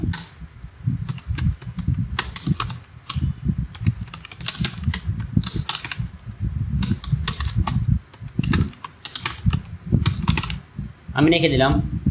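Rapid typing on a computer keyboard while entering a company name into a Microsoft Word document, a steady run of close, crisp key clicks with brief pauses, and a short spoken bit near the end.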